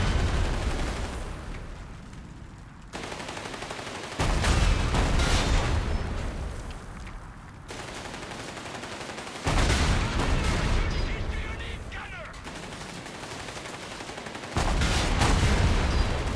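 Gunfire and artillery blasts from a World War II strategy game battle with US and Free French forces, heavy booming impacts recurring every few seconds over a continuous rumble of combat.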